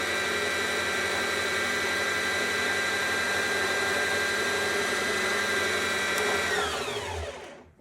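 A household sewing machine whirs steadily as it winds a bobbin under pedal control, a loud continuous motor hum that runs down and stops near the end, no voices.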